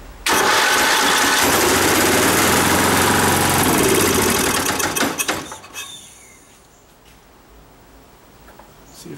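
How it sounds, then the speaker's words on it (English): A Toro mower's 11 hp Briggs & Stratton engine roars loudly, rattling and knocking because the motor isn't bolted down tight, then cuts out after about five seconds, leaving quiet handling noises. "The knocking noise you're hearing is because the motor isn't bolted down tight."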